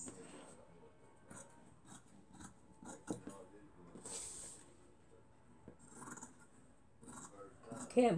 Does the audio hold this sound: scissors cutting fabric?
yes